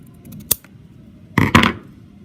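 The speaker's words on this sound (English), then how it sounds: "And then I'm just going to trim" Big scissors trimming fabric for an elastic wallet: one sharp snip followed after a pause by two quick crunchy cuts, close and loud against a quiet room, with no talking.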